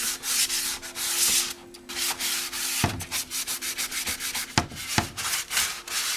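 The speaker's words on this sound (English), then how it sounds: "Every time I color sand, I go around them." Color sanding of paint on a Honda NS250R motorcycle part: close, rhythmic rubbing strokes by hand, repeated back and forth with brief pauses between passes and no talking.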